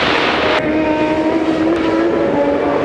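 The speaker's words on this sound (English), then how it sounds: "The leader of the race, Sebastian Bourdais, is now in pit lane" A Champ Car-era race car enters the pit lane at the 2007 Grand Prix of Toronto, a loud, close, steady engine roar with a rising whine that stays dense the whole time.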